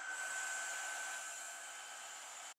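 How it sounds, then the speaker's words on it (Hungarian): A Jimmy HW9 cordless vacuum cleaner runs with a steady, high-pitched whining hiss and a constant motor tone, loud and unbroken, then cuts off abruptly at the end. "bekapcsolom, és most megmutatom nektek most az egyszer a videóban a hangját."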